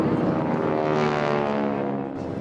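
A propeller airplane drones overhead at an air show by an Aurora reservoir, a loud, steady engine roar with a sustained hum that fades slightly as the plane turns away.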